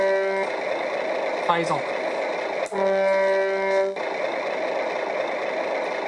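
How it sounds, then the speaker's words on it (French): Kotronik prototype sound module on a model truck playing its horn over a steady idling engine: two sustained electronic horn blasts, one short and one longer, close and loud, with someone speaking briefly in between. "Donc là c'est l'exemple, c'est le klaxon"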